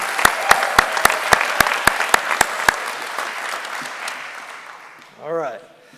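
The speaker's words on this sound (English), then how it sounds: "another round of applause for the newest Pike Township Fire Department trustee" Audience claps at a firefighter graduation ceremony, steady applause with sharp rhythmic hand claps near the microphone that fade out, followed by a brief voice.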